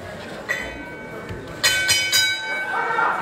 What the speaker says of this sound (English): The bell sounds and we're underway.